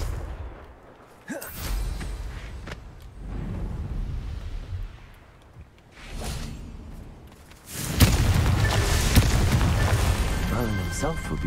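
Confringo fire spell cast in Hogwarts Legacy, whooshing bursts and booming blasts building to a loud, sustained fiery roar in the final seconds.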